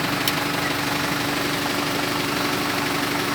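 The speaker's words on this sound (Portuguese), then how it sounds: "Para acionar esse sistema hidráulico do trator, você vai levantar essa alavanca aqui, ó." A tractor engine runs at a steady idle while its hydraulic system raises two cylinders, a constant near rumble with no distinct change throughout.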